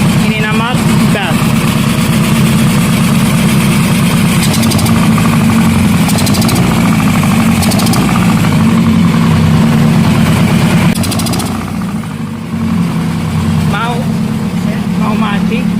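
A car engine fitted to a motorcycle idles with its number 4 cylinder deactivated, giving a loud, steady, slightly uneven rumble throughout, with someone talking over it.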